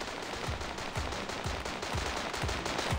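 An AK rifle fires in the shooter game Standoff 2, a run of loud punchy shots in a steady repeating rhythm, each crack close and heavy over continuous game noise.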